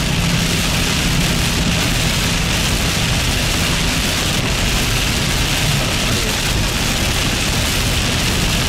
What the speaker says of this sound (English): Now that I've got rain hitting the windshield